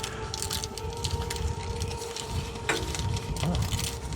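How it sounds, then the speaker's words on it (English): Gusty outdoor wind in Oklahoma buffets the microphone in uneven rumbling bursts, with faint tones and clatter audible in the background and no clear speech. "It's windy here in Oklahoma right now."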